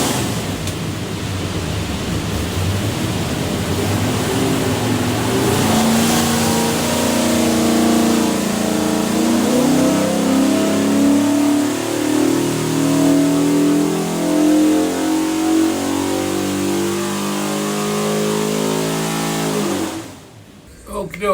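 A Ford 347 V8 with hydraulic roller cam, front sump oil pan and March pulley kit, destined for a '67 Mustang, roars loudly on an engine dyno, its pitch sweeping upward through a long full-throttle pull before cutting off abruptly.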